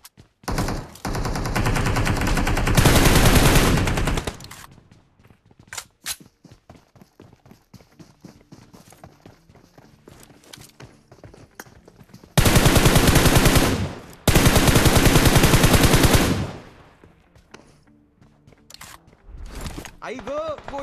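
Gunfire in the mobile battle royale game PUBG/BGMI, with long loud bursts of automatic fire in two main volleys, scattered single shots and clatter between them, and a voice talking underneath.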